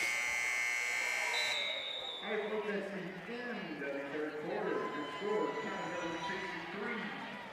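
A loud end-of-period buzzer blares steadily for about a second and a half at a girls' varsity high school basketball game, then a commentator talks over the gym's crowd noise.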